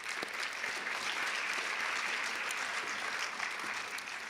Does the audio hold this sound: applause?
yes